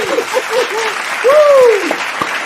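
Audience applause at an award show, short clapping from a small crowd mixed with whoops and a speaking voice.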